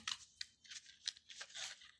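Repeated snips of scissors cutting through paper, several crisp strokes in an uneven rhythm, close and clear with no talking.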